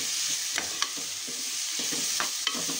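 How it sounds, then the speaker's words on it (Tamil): Onions and tomatoes sauté in a pan for a home-style chicken gravy, giving a steady close sizzle broken by a few sharp spoon scrapes and clicks as they are stirred, with no voices. "நம்ம வெங்காயம், தக்காளி இதெல்லாம் போட்டு நல்லா வதக்கிக்கலாங்க."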